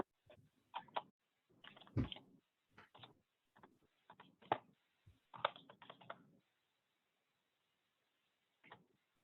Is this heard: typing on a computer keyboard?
yes